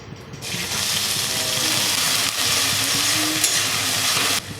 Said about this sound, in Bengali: পেঁয়াজ আর লঙ্কাটা দিয়ে দিচ্ছি